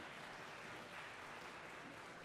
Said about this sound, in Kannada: ಇಲ್ಲಿರುವ ಎಲ್ಲ ಪೇರೆಂಟ್ಸ್ಗೂ ಜೋರಾಗಿ ಚಪ್ಪಾಳೆ ಕೊಡಬೇಕಂತ ವಿನಂತಿ